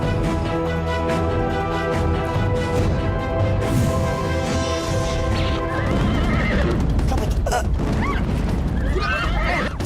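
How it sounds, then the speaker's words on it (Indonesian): Horse neighing and galloping in a period legend drama, loud whinnies over rapid hoofbeats, with booming impacts and crowd noise swelling in the second half. "Cepat kejar kuda itu!"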